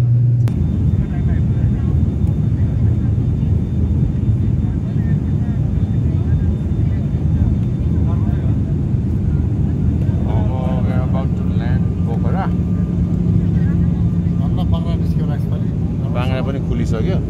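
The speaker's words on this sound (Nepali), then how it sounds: "Take off." A fixed-wing airliner takes off on a domestic flight from Kathmandu to Pokhara, a steady loud engine roar heard from inside the cabin throughout, with faint voices and brief clicks over it.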